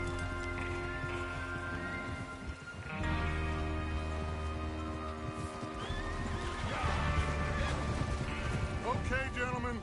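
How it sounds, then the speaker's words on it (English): Horses whinny and snort over a busy bed of hoofbeats and rumbling in the video game Red Dead Redemption 2, with voices talking in the background. "Get your horses ready."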